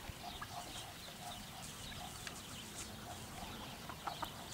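Chickens and a rooster clucking and calling at a distance, faint scattered bird sounds over a steady low outdoor background.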